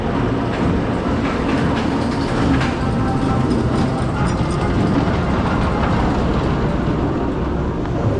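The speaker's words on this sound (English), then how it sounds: "No riders at all on that train." A theme park train rolls along its rails at Alton Towers with a loud, continuous rumble, a low steady churn and faint rhythmic wheel clicks, passing close by without pause.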